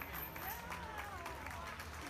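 Audience at a youth swine market show clapping, a faint, brief patter of applause from a small crowd at a distance.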